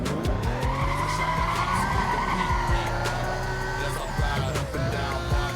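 A Lamborghini Gallardo in the video game Need for Speed Most Wanted roars with a loud, sustained engine note and screeching tire squeal throughout, close and continuous, with no talking.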